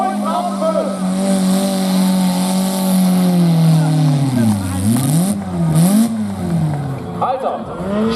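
Tractor-pulling engine revving hard at a pulling event in Trautenfels, Austria, the pitch climbing, dipping and surging in rough waves under loud crowd and arena noise, with an announcer talking over it.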